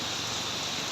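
Heavy rain falls steadily as a dense, even hiss beside a town-centre road, with no gaps and no voices.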